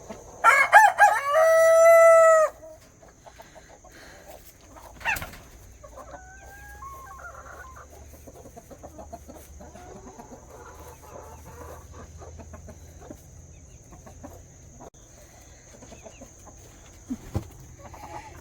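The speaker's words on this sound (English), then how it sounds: "And then you have that rooster there." A rooster crows loudly and close at the start in one long call, followed by faint scattered clucks and farmyard rustling from backyard chickens with no talking.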